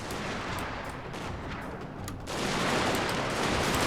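Matchlock volleys and cannon fire boom and crackle in a Total War: Shogun 2 battle, a dense, continuous barrage that swells louder about halfway through, with no talking.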